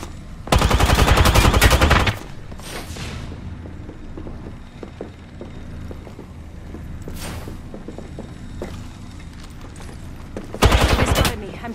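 Bursts of automatic gunfire from a firefight in the battle royale game Apex Legends, a loud sustained volley at the start and another near the end, with scattered clanks and mechanical game sounds between them.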